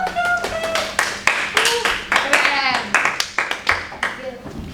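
A class claps hands during a microteaching session: loud, distinct individual claps in an uneven rapid sequence, close by, with a brief spoken word and some chatter over them.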